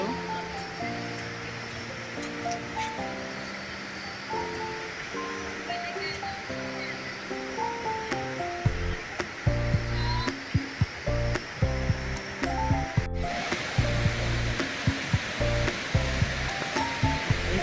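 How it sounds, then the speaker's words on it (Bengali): The Ganga rushing fast through a mountain valley on the trail from Govindghat to Ghangaria, a broad steady roar of fast water heard under tonal music and occasional thumps. "এখানে গঙ্গা প্রবল বেগে বয়ে চলেছে"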